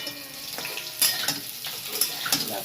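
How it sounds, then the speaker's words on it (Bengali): Cauliflower florets sizzle in hot oil for a cauliflower-prawn curry, a steady close hiss broken by a few sharp stirring clicks, with no voices. "এবার আমি ফুলকপিটা ভেজে নেবো"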